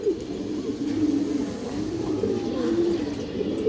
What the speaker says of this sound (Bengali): হালকা লাল গিয়ার এবং সিলভার জাবরা কবুতরের বাচ্চা মাশাআল্লাহ, অনেক সুন্দর বাচ্চা এগুলো